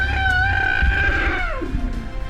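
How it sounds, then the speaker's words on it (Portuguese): A young elephant lets out a single drawn-out, high squeal that bends downward in pitch near its end, loud and fairly close over a low rumbling background. "as pessoas ouvem o guincho de uma jovem elefanta"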